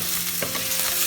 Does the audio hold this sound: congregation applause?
no